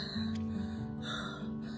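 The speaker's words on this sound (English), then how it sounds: "Yes, I'm panting because I am preparing for the CIBC run, for the cure." Person panting after exercising, with a couple of close, breathy gasps and wheezy inhalations over a short span.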